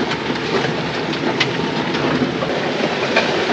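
A train in Madagascar rolls past with a continuous loud clatter of wheels on rails and a dense, steady rumble throughout, with no voices.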